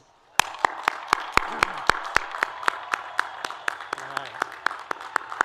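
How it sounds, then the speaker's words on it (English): A commencement audience honouring new Bradley University liberal arts graduates claps in sharp, evenly spaced beats that carry on steadily after a brief quiet start, with a short spoken remark near the beginning. "how about a really big round of applause for our newest Bradley alums?"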